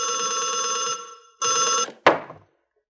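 An old-style telephone bell rings in two loud bursts, a long ring then a shorter one, followed by a thud as the handset is picked up; no voices.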